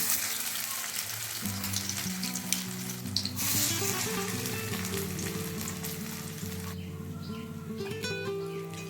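Poppy seed fritters (posto bora) fry in hot oil with a continuous soft sizzle and crackle, while a melodic tune plays quietly in the background.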